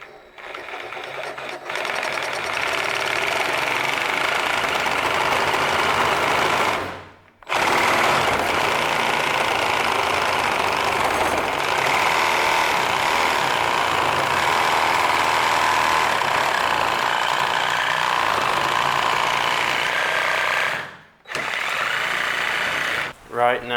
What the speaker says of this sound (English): Today I'll be making a pen with the lathe